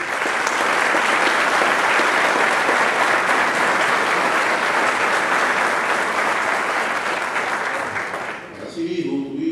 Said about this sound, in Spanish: a quien también pido un fuerte y caluroso aplauso